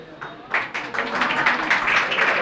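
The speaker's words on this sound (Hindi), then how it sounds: "इनके लिए हो जोरदार तालियां" Applause for a prize winner at a school prize distribution, a burst of many hands clapping that swells and holds steady, close and fairly loud.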